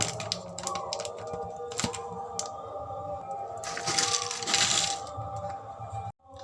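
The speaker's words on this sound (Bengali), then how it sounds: "এবার প্রথমে আমি এই প্যাকেটের থেকে চিপসগুলোকে বার করে নেব" Chips being taken out of a crinkly snack packet, with close rustling, crackling and crinkling of the plastic bag in irregular bursts, plus a few sharp cracks, with no talk.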